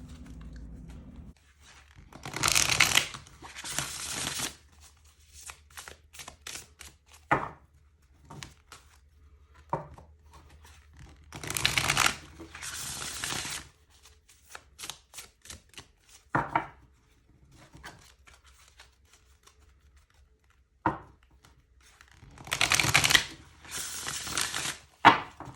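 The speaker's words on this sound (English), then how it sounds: "Let's go ahead and get some tarot cards out on the table." Tarot cards being shuffled on a table, heard as repeated bursts of crisp riffling and clattering separated by quiet pauses and scattered single taps, close and fairly soft with no talking.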